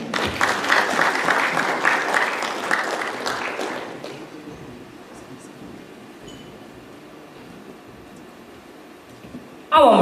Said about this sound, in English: A warm round of applause for Mr. Israel Agina